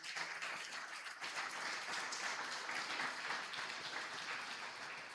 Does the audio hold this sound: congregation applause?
yes